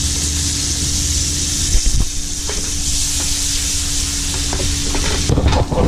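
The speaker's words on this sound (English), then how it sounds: "And now this salt meat right here. Fry this a little bit too." Salt meat frying in a pot for a seal stew, a steady close sizzle and hiss with a low hum underneath and a few scraping stirs near the end.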